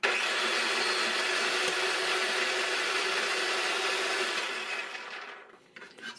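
A Ninja Precision Processor drives its spaghetti spiralizer blade through pieces of butternut squash with a loud, close, steady motor whine and grinding rush that holds for several seconds, then winds down and cuts off.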